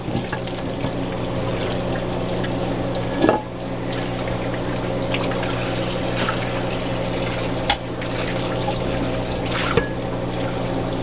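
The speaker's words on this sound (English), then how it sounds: "We'll rinse this off." Tap water runs steadily into a sink as a cleaned, previously burnt pot is rinsed, a close continuous splashing stream with a few brief clanks of the pot.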